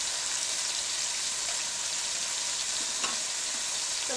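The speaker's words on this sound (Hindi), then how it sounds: "अब इसमें अदरक लहसुन का पेस्ट डाल दें," Ginger garlic paste frying in a pan after a splash of water for pulao, a dense, even hiss of sizzling close by with a faint stir or pop midway, no voices.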